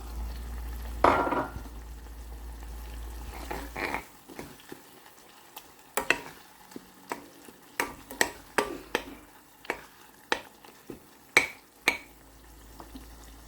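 Tomatoes, garam masala and whole cumin frying for a masoor dal tempering, with a brief hiss near the start, then a quiet pan broken by crisp spattering pops.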